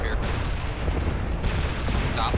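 Mech weapons pound an Atlas mech during a MechWarrior Living Legends battle, a dense, continuous barrage of heavy gunfire and booms filling the whole stretch, loud and close, with radio chatter faintly mixed in.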